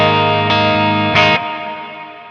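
Electric guitar played with a clean tone through a Neural DSP Quad Cortex, a loud sustained chord ringing with a brief new strum midway, then slowly fading.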